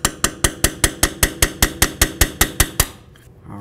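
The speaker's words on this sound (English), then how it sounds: "Let's try to give it a couple loving bonks just to help persuade it." About fourteen sharp metallic taps land in an even, rapid rhythm on an ABS sensor stuck in a Mazda steering knuckle, loud and close, then stop and leave a brief quiet tail.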